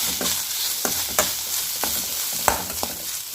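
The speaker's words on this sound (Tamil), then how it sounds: "நெய்யில் சேர்த்து இதையும் நல்லா அந்த நெய்யில் நல்லா அந்த தேங்காய் பூ நல்லா வதக்கி வச்சுக்கணும்" Grated coconut being sautéed in ghee for an aval laddu, a close steady sizzle punctuated by rhythmic clinks and scrapes of a spoon against the pan, with no voices.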